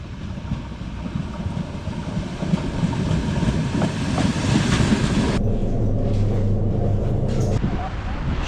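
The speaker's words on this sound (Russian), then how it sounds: "Первая электричка в 5:00." The first early-morning electric commuter train in Minsk rumbles and clatters close by, settling into a steady humming drone midway, with voices faintly mixed under the noise.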